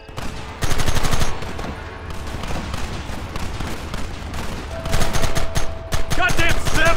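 A volley of gunfire in Red Dead Redemption, many rifles and guns cracking together in dense, loud bursts, easing briefly before a second heavy barrage, with shouting underneath.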